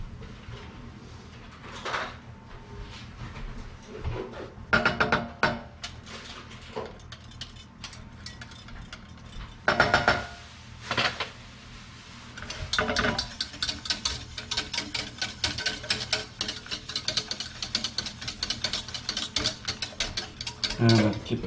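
A whisk beats a sauce batter as milk is slowly added, starting with scattered scrapes and taps, then settling into a fast, steady, close-up clicking against the bowl that runs to the end.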